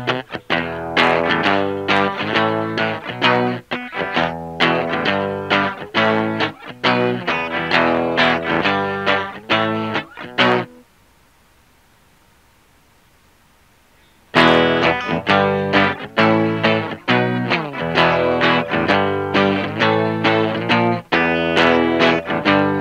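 Distorted electric guitar chords ring out loud through an Orange Terror Stamp amplifier, stopping for a few seconds of silence before the riffing resumes.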